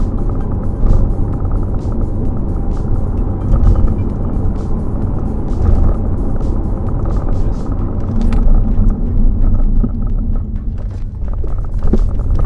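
Lexus IS250 sedan cruising at an easy pace after a brake pad and rotor bed-in, a steady low road rumble and engine drone continuing throughout with faint tyre noise and no speech.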